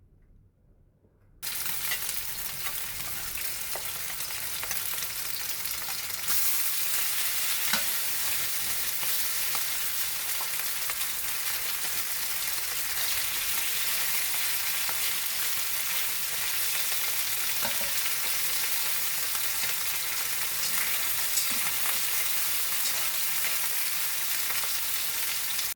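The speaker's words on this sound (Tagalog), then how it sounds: "lagyan na natin ng konting mantika para iprito na natin yung ating isda" Steady, dense sizzling of fish frying in oil in a clay pot, continuous and close, with a brief quiet moment before the crackle starts.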